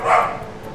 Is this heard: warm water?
no